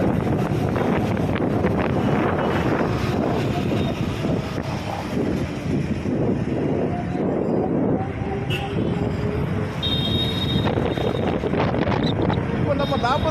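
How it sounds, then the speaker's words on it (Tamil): Heavy, steady wind noise buffets the microphone while riding an Ola electric scooter at speed, a loud continuous rush with a voice talking at times over it. "நாம இப்போ ஓலா வண்டியில் டிரைவ் போகிறோம் ஜாலியா"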